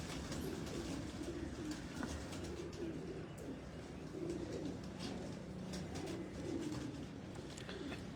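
Pigeons cooing in repeated low warbling phrases heard under a steady broadband background rumble, fairly faint and continuous.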